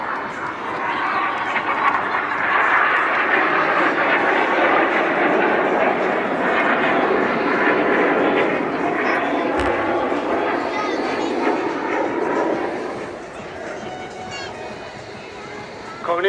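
Red Arrows display jets pass during an airshow manoeuvre at the Blackpool Airshow, a broad roar rising and holding for most of the clip before fading, with a commentator talking over it.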